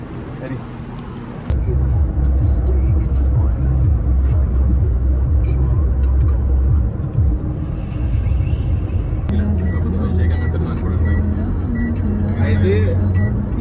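A vehicle heading toward Abu Dhabi gives a steady, loud low engine rumble that kicks in after a brief quiet start, with voices talking over the drone throughout.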